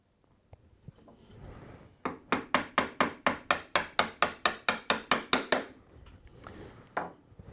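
Mallet strikes a chisel to cut a mortise in wood by hand, about fifteen evenly spaced, sharp woody knocks in a steady rhythm, close and clear, with a few softer taps before and after.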